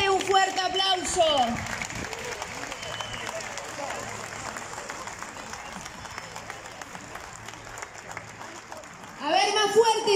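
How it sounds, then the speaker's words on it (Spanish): Audience applause at the opening ceremony of Montevideo's Semana Criolla 2023, a steady wash of clapping from a crowd that fills the middle, with a voice speaking briefly before and after it. "Un fuerte aplauso."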